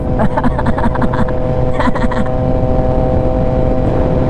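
A Yamaha XSR900 motorcycle engine drones loud and steady up close, with a short burst of revving and a downshift early on, then a sustained even roar.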